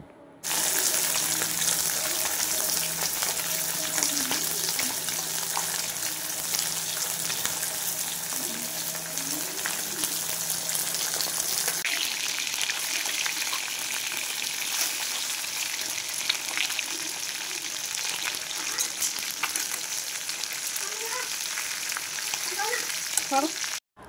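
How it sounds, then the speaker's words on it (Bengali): Steady sizzling and crackling of oil frying small fish, continuous and close, with faint clinks of a utensil now and then and no talking. "এবারে আমি মৌরলা মাছগুলো ভেজে নিচ্ছি"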